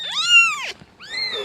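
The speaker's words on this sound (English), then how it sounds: "These little kitties." Little kittens with a bit of white in their coats meow close up, one long rising-and-falling cry followed by a shorter second meow, with no talk.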